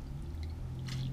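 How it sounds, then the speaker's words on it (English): Steeped spicy beef ramen poured into a bowl, with soft wet drips and squishy splashes of broth and noodles, close and quiet, no talking. "So I'm going to just pour this into a bowl so you can see it better."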